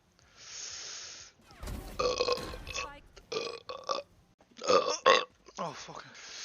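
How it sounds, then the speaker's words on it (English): A man on a live stream belches several times in a row, loud and close, each burp a rough, drawn-out burst separated by brief gaps, with some talk around them. "The burps just roll in"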